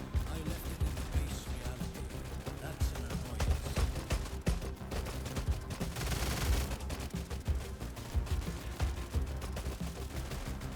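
A winter-event quest in a video game brings rapid sniper and automatic gunfire. Repeated sharp shots keep cracking over several seconds, dense and loud, with a heavier burst near the middle.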